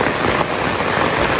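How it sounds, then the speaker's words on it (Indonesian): Dense, loud downpour hissing and pattering on a surface, steady and unbroken. "Hujan deras."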